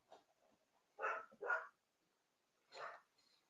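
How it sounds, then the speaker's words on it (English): A dog barks indoors: a few sharp, close barks in quick succession, then a pause and another bark, with faint yips in between and no talking. "it's Holly's barking"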